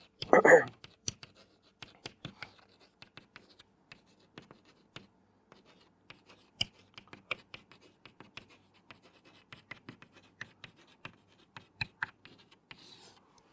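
Pen or marker writing on a board during a mathematics lecture on matrices, faint scattered taps and scratchy strokes in irregular bursts after a brief louder knock, in a quiet room.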